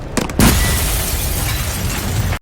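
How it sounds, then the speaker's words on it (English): A package bomb goes off in a TV police drama, opening with a few sharp cracking bursts that build into a loud, sustained roaring blast and rumble that cuts off abruptly. "The sudden explosion caught the police's attention."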